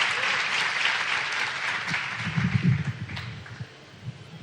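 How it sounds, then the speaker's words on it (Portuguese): An audience at a national youth church conference applauds a writer and poet, a dense burst of clapping that starts strong, thins out and fades away over a few seconds. "Eu queria que mais uma vez você aplaudisse ao Senhor pela presença de Carlos Nejá"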